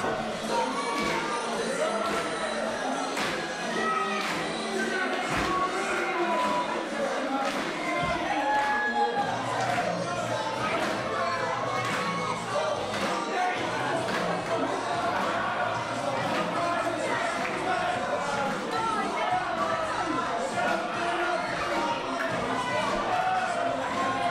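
A crowd at an independent wrestling show in Britain cheers and shouts continuously, with stomping and thuds underneath and a commentator's voice mixed in.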